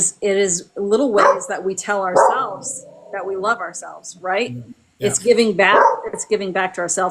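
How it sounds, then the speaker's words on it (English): A pet dog named Ellie barks in the background, intermittent and partly buried beneath a steady conversation between two people talking up close. "And sorry, that's my dog Ellie."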